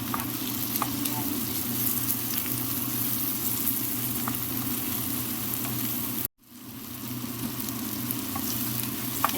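Tomato sautéing in a pan with garlic rice, a dense steady sizzle and crackle with occasional stirring scrapes, close and continuous, briefly cutting out once before resuming, no voices.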